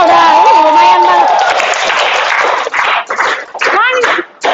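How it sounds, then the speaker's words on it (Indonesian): Students in a mathematics classroom on frequency distribution clap together in a loud, dense burst that lasts several seconds and then breaks up into scattered claps, while a voice talks over it. "Tepuk tangan dulu dong."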